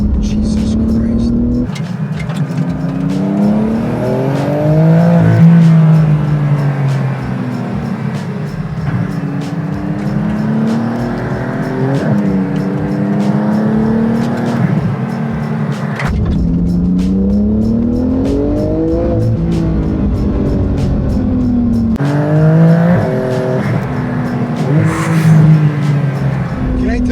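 A Porsche GT2 RS sports car drives and accelerates hard with the engine note heard from inside, rising and falling through repeated revving pulls and gear changes, with tire noise and people talking over the engine.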